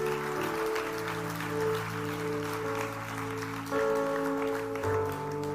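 Church audience applauding during a sermon, continuous moderate clapping over sustained keyboard chords that shift softly in the background.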